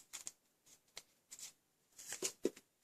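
Scissors snip through fraying ribbon on a handmade Stampin' Up Christmas card, a few quiet, crisp cuts in short separated bursts, close and soft with no talking.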